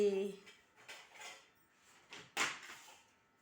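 Bowls and spoons handled in a home kitchen: scattered light clinks and knocks of dishware, a sharper clatter near the end, with a voice briefly talking at the start.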